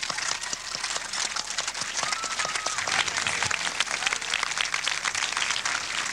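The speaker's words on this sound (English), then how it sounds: "So the first round of applause is for the parents and families." A graduation crowd at a 1994 high school ceremony applauds parents and families, a sustained, even wash of many hands clapping at moderate distance, with a few voices underneath.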